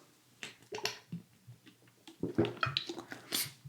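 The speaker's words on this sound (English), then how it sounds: "So just going to take a sip of water." Small wet mouth sounds and gulps as a man sips a drink of water, soft and close, several brief slurps and swallows with faint breaths between them.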